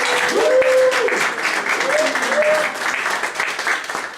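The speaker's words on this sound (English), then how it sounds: "Would you give them a big round of applause?" A concert audience applauds after a choir and tone chime ensemble is introduced, a dense wash of clapping that fades slightly, with a voice speaking briefly over it.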